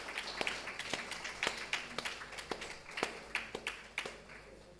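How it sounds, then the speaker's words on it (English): Sparse, faint applause at a corporate governance colloquium, a handful of separate claps spaced out and thinning toward the end, heard from a distance in a quiet hall. "let's give a round of applause"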